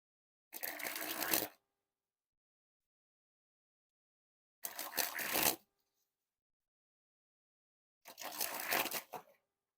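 A Cardtopia NYC 2023 playing card deck is sprung from hand to hand in three separate bursts of rapid, fluttering card riffles. Each burst lasts about a second, with silence between them, close up and clear.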